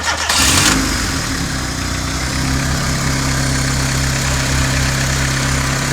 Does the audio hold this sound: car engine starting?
yes